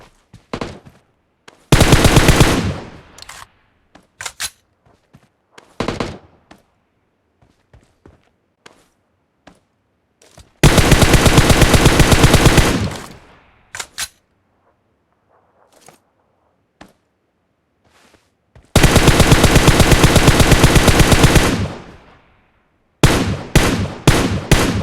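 Automatic weapon fire in PUBG Mobile comes in long, loud sustained bursts separated by scattered single shots and quiet gaps, ending with a few short clipped volleys.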